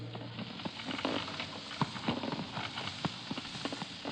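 A donkey pulling a cart on the outskirts of a village clip-clops along in a steady, quick rhythm of hoof strikes, moderately near, over a faint background hiss.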